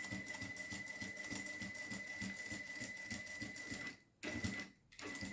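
A sewing machine stitches bias binding onto a small fabric nail file holder, a fast even rattling hum close by that stops briefly twice near the end.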